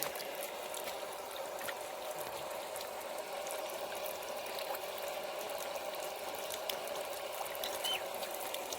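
Steady flowing water with a constant trickling, bubbling texture, moderately close and unbroken throughout.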